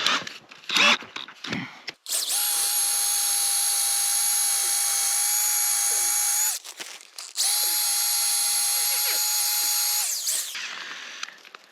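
Power drill fitted with a long masonry bit, about a foot long, whining loudly and steadily in two long close bursts separated by a brief pause, with some handling knocks before and between them.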